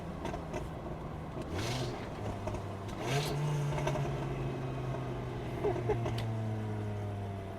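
A 5-cylinder turbocharged MK2 street car engine revs up in two rising pulls, the pitch climbing then holding steady, loud and close with road and wind noise around it.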